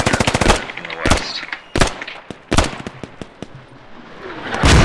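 Heavy gunfire and explosive blasts from a battle in the military shooter game Squad, with a rapid machine-gun burst followed by several loud, separate booming impacts spaced unevenly over a few seconds, with faint talk underneath.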